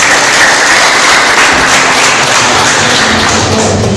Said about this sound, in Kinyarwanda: mubanze mwihe amashyi